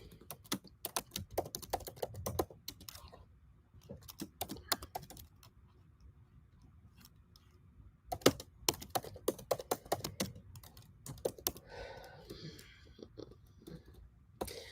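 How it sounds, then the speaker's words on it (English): Someone types on a computer keyboard in bursts of rapid key clicks, separated by short pauses, close up and with no talking. "I'm typing"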